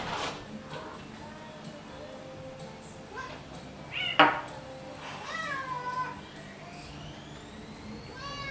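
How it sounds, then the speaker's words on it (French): A stray cat wandering indoors meows several times, short drawn-out calls scattered among faint household rustles and clatter, moderately close but fairly quiet. "Un chat étranger rentre chez moi."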